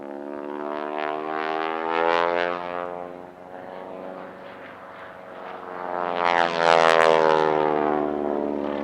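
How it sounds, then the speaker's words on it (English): A Boeing Stearman biplane flown by Vicky Benzing at an airshow passes with a loud radial-engine propeller drone, swelling, easing off, then rising again as it sweeps by fairly close. "Vicky Benzing in her Stearman"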